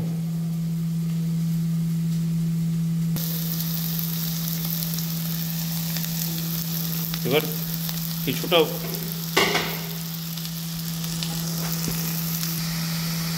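Ground Kashmiri chili, coriander, roasted cumin and turmeric powders sizzle steadily in a hot pan for a Bihari chicken curry, with a few louder stirring scrapes in the middle and a brief spoken remark near the start.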